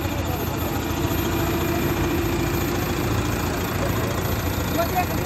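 A Euro 60 tractor engine idles with a steady, low diesel rumble and vibration, continuous and fairly loud throughout.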